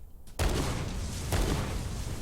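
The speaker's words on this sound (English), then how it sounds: "that's a massive explosion for such a small charge" Massive explosion from a small charge on a bridge: a sudden loud blast after near silence, then a long rumbling roar with a second boom swelling about a second later, no voices.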